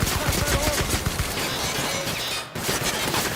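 Rapid gunfire from the player's weapon in The Outer Worlds, a dense burst of repeated shots rattling on continuously with a brief break, loud and close with a voice faintly underneath.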